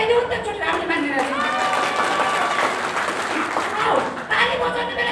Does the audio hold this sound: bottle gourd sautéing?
no